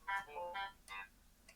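Phone notification chime breaking through Do Not Disturb mode, a short melodic run of three or four bright, fairly quiet tones followed by a faint final blip.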